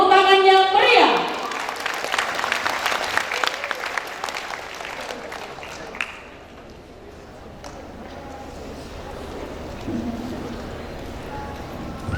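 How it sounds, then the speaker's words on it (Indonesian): Crowd applause at an evening keroncong theatre performance, a burst of clapping after a short musical tone that fades within a few seconds, then quieter room ambience with faint voices. "beri tepuk tangan yang meriah"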